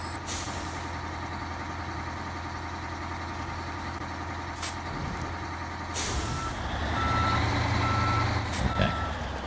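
Reversing beeps from a heavy truck in the off-road driving game SnowRunner, hard mode, sound as a steady repeating series over a constant engine drone, with an air-brake hiss and louder engine rumble toward the end.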